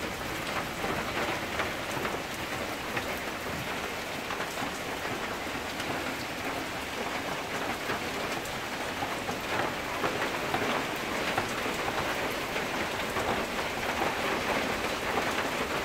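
Heavy rain pours at midday in the countryside under a darkened sky, a dense, steady hiss of drops on surfaces that continues unbroken throughout, with no voices.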